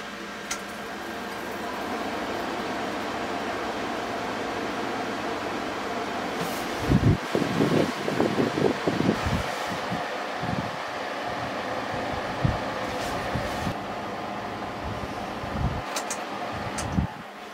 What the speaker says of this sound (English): Let's see what happens if I turn on the air conditioner.